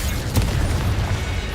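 A deep booming burst from the Incendio fire spell in Hogwarts Legacy, a single sharp whoosh-crack followed by a low rumbling roar that holds steady.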